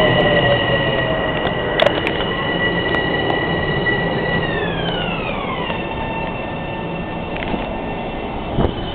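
A Metro-North M7A electric commuter train passes near Crestwood with a loud steady rolling roar, high whining tones that bend downward in pitch and occasional wheel squeals, heard close.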